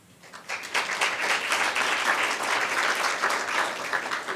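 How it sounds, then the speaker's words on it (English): An audience at a Board of Education meeting breaks into sustained applause for student leaders: a dense, steady wash of clapping that swells quickly and holds throughout. "So let's give them a round of applause after I call out the list."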